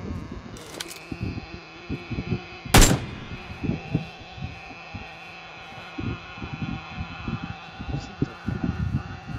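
Rapid gunfire bursts ring out in a PUBG Lite match, repeated low thumping shots in irregular volleys with one loud sharp crack, while players speak intermittently underneath.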